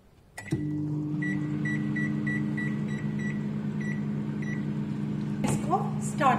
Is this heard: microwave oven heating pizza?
yes